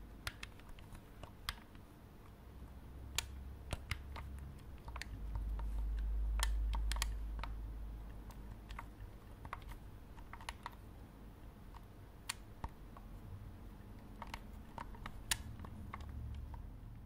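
Game controller buttons clicking close to the microphone while playing Fortnite, sharp sparse plastic taps and quick bursts of presses over a soft low rumble, with no speech.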